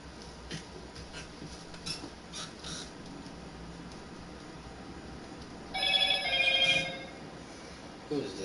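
A short electronic phone notification chime sounds once near the end, fairly clear against a quiet room and faint game audio during an online Madden 22 session.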